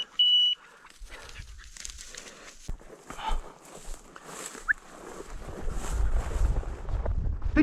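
Hunting dogs work a field during a quail hunt, giving sporadic barks and rustling movement after a brief electronic beep at the start.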